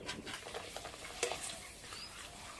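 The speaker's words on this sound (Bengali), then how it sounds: "তেলটা খুব ভালো করে গরম করে নিয়েছি। এবার পাঁপড়গুলো ভেজে নেব।" Papad frying in very hot oil in a wok, a quiet bubbling sizzle with soft crackles and a brief louder burst in the middle, close but faint, with no talking.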